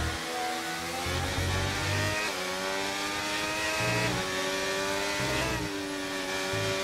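F1 racing cars at the Hungaroring in a racing video game, engines whining steadily at high revs with stepping gear changes and rising pitch sweeps, loud and continuous with several cars close together.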